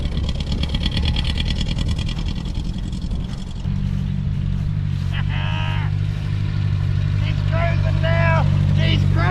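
Engine of a vintage Mercedes car revving hard as it drives out of mud, a steady loud drone with rising revs, under excited talk and shouting from nearby people.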